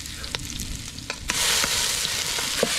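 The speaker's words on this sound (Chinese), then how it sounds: "葱姜蒜搞里头，扒拉扒拉，来来来，鸭子下锅喽" A fat five-jin duck drops into a large iron wok over a wood-fired stove: light scraping and clicks at first, then a loud, steady sizzle of frying breaks out and continues close by, with no talking.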